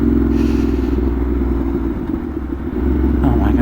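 A Ducati Monster 1200 R motorcycle engine runs steadily and loudly up close, with a deep throbbing rumble that dips slightly and then swells again toward the end.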